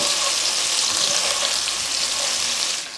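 Steady, loud sizzling of zucchini frying in a pan, a dense continuous crackle that eases slightly at the very end.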